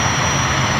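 Jet funny car roaring at a night drag race at Orlando Speed World Dragway, a loud, steady, broad jet-engine rush filling the brief moment with no voices.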